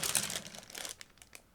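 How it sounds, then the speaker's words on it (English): Plastic bag holding model kit sprues being crinkled and pulled open, close and quiet, a busy rustle that thins into scattered crackles, with no talk. "I'm trying to open the next plastic bag"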